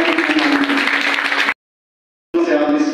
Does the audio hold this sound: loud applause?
yes